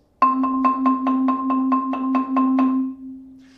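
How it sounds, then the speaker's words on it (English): Sustained mallet roll on one pitched note, one hand playing louder than the other, strokes alternating strong and weak in volume, about a dozen hits, then a ringing decay. "If one hand is playing louder than the other, your roll might sound like this."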